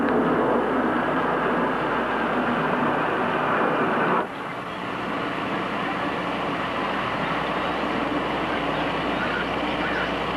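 Military aircraft circling overhead, a loud, steady broadband engine roar that dips briefly midway and then continues, with no voices.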